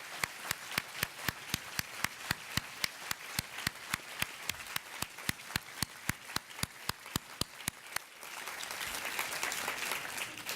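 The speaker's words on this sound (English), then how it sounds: "Let's have a round of applause for our outstanding panel." An audience applauds a lecture panel at the close of the 2015 Tseng Lecture, with steady, evenly spaced claps ringing out in a rhythmic beat before loosening into a broader wash of clapping in the last couple of seconds.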